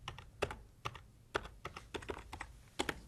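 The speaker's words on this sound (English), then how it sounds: "Now I'm going to type in January 7, 2007." Keys tapped on a computer keyboard while entering a date into a spreadsheet cell, a quiet, irregular run of crisp clicks at close range with short pauses, no voices.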